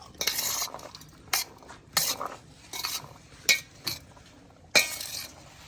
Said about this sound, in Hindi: अभी इन सब चीज़ों को मिक्स कर लेते हैं